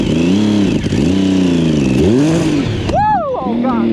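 A 1050cc Yamaha Raptor ATV engine with exhaust trouble revs loudly and continuously up close, its pitch swelling and dipping in repeated throttle blips before a sharp climbing rev near the end.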